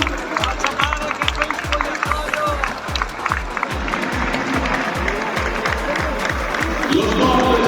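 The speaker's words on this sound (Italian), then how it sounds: "Facciamo sentire il nostro caloroso applauso per questi piccoli e grandi campioni" Warm applause rises from a crowd at a celebration for disabled football players, a dense steady clapping that carries on under a loud rhythmic thumping beat and an announcer's voice.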